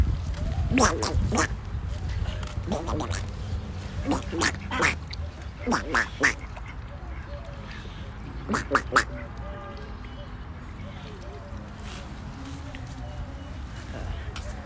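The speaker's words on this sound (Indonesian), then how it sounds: "Bebek ya? Kukira angsa." Ducks quack in repeated bursts, several loud calls close by early on and another cluster later, over a steady outdoor background with people talking intermittently.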